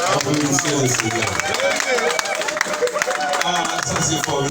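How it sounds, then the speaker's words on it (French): Wedding congregation clapping and cheering in a church service, dense rhythmic applause with crowd voices and singing-like tones throughout, loud and close. "Applaudissez le Seigneur."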